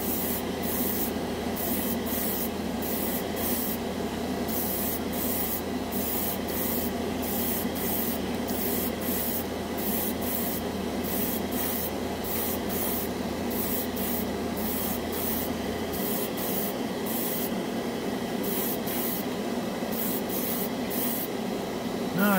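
A cheap $14 dual action airbrush sprays clear coat in short repeated bursts, a close airy hiss pulsing on and off over a constant low hum of the compressor, with no talking.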